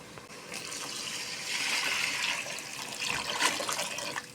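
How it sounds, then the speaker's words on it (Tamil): Water pours into a cooking pot for homemade prawn biryani, a continuous splashing gush that swells and stays fairly close, with no talk over it. "எந்த கப்பால் அரிசி அளந்தமோ அந்த கப்பால் 2 மடங்கு அளவுக்கு தண்ணி சேர்த்துக்கலாம்"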